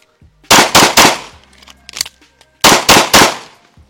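Gunshots from a fast timed shooting run with a reload: three loud, sharp reports in quick succession, a short pause with faint handling noise, then three more rapid loud shots.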